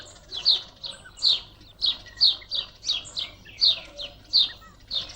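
A flock of small birds gathers at a temporary pond, their sharp chirping calls repeating in a steady rhythm about twice a second, close and clear over a quiet background.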